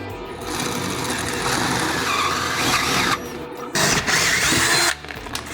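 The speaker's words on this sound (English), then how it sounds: "I would imagine we need to drill a hole to start." A power drill bores a pilot hole in a deck, whirring steadily at high speed, briefly stopping twice before spinning up again, loud and close, ending with a short pause.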